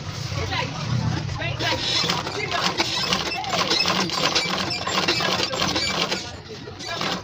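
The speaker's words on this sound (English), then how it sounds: "I'll continue sewing it around" A sewing machine stitches around the edge of a homemade fabric lunch bag, a steady close mechanical whir that runs continuously while a person talks over it.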